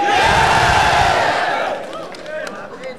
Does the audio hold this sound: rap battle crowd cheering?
yes